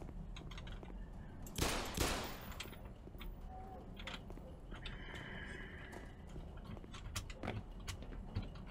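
Gunfire from Black Mesa, the game, as weapons shoot up objects: a loud broadband burst near two seconds, then scattered sharper shots and impacts over a steady busy background.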